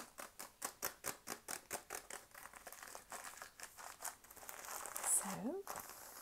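A bag of basmati rice is crinkled close up in a steady, fast rhythm of soft plastic rustles, followed by a few louder scrunches and a scrape near the end.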